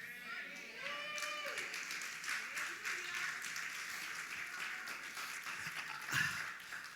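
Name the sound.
audience applause at a sermon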